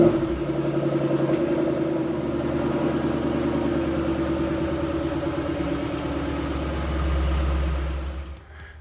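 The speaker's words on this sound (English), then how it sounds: "I'm gonna back the car out of the garage so I got more light while I'm working." A car engine idles and runs steadily in a garage as the vehicle backs out, a continuous low rumble with a slight swell near the end before it cuts off.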